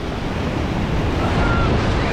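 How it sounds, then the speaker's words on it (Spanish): Rough ocean waves roll and crash on a busy beach at Mazatlan, Mexico, a dense, loud, continuous wash of surf. Wind buffets the microphone throughout. "Vean las olas de aquel lado."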